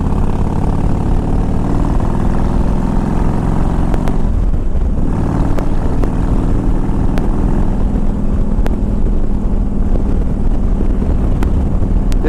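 A 2000 Harley-Davidson Ultra Classic motorcycle cruises in fifth gear on its five-speed, giving a steady, loud engine drone and exhaust rumble mixed with constant wind buffeting across the microphone, with no talk.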